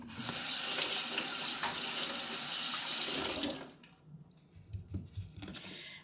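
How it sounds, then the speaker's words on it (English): Potatoes rinsed in a kitchen sink under a running tap, a loud steady rush of water for about three seconds that then stops, followed by quieter wet handling, dripping and knocks of the potatoes. "So I'm going to rinse my potatoes."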